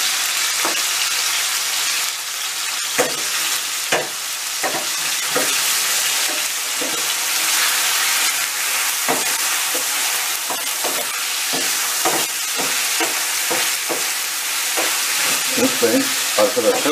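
Chicken pieces frying over high heat in a pan, a loud continuous sizzle broken by frequent sharp pops and clinks of stirring, with no talking.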